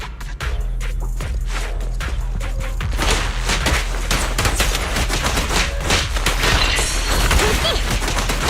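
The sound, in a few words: gunfire in the video game Zenless Zone Zero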